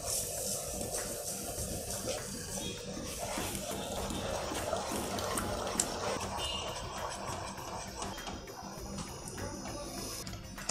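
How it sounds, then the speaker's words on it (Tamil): Water boiling in a pan while making rava sweet paniyaram, giving a steady bubbling, crackling hiss with small ticking pops that lasts the whole time and never rises or fades. "நல்லா தலைக்கிறது"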